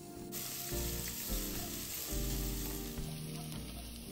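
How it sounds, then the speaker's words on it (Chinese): About 20 grams of minced garlic sizzles in two tablespoons of cooking oil over medium heat, a steady close crackle with faint stirring and a low tonal hum beneath, no voices. "再倒入20克蒜末爆香"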